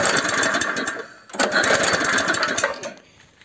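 A classic mini tractor's small engine, which has lost its spark, is cranked over in a spark test: a rapid mechanical rattle in two close bursts separated by a short pause, loud and near, with no talking.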